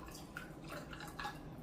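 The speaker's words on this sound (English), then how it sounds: "We're just pouring some chai in," Chai tea mix poured into a glass over ice gives a faint, steady trickle with soft drips, heard alone without talk.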